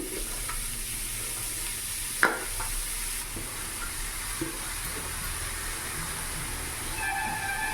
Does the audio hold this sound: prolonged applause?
no